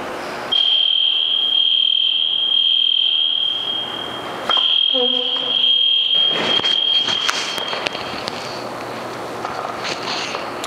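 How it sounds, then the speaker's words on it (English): A piercing, steady high-pitched alarm tone sounds continuously for several seconds, pauses briefly, resumes, then cuts off amid some shuffling and handling noise. "that's an alarm of some sort."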